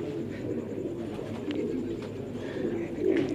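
A large Zard Mala pigeon coos softly and continuously, low rolling calls at close range over a steady background hum.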